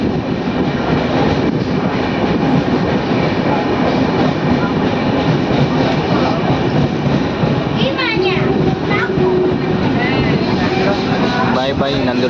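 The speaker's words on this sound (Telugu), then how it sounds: "నందలూరు నుంచి మన ట్రైన్ బయలుదేరింది." Tirumala Express pulling out of Nandaluru station on the Guntakal–Visakhapatnam run, a steady loud rumble of the rolling train heard from on board throughout, with brief squeals near the end and a voice talking over it.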